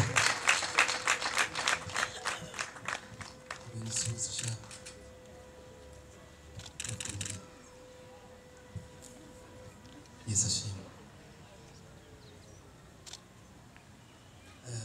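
Wedding guests clapping, a dense burst of applause at the start that thins into scattered claps and fades, with brief renewed clapping later while someone speaks over it.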